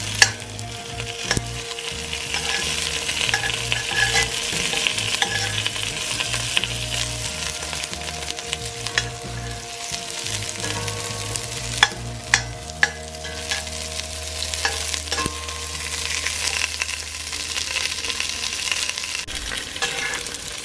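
Steady frying sizzle of onions browning in a pot with occasional stirring scrapes and clinks, continuous and close throughout, with a low hum in the background.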